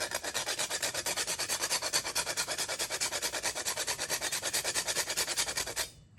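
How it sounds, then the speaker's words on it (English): Whole nutmeg being grated by hand for Bahamian potato bread, a fast rhythmic rasping scrape repeated steadily stroke after stroke, close and clear, stopping just before the end. "we have the whole nutmeg here, and we're gonna grate 3 of them"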